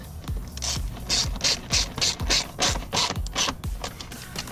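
A ratchet wrench tightens a fitting during a car cooling system repair, giving a fast, close run of crisp clicking pawl strokes in an uneven rhythm, loud and alone without talk.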